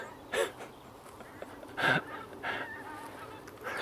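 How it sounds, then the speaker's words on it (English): Several geese honk along a road near the Hill of Doune, with short calls in separate bursts that seem moderately distant in open country. "More geese."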